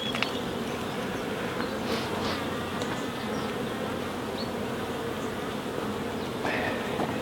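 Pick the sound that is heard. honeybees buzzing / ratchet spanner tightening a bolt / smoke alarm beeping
honeybees buzzing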